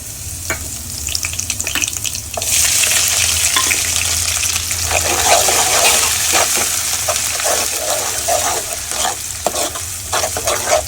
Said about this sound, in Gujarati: હવે પહેલાં આપણે લસણનો વઘાર કરશું લસણ અને આદુની પેસ્ટ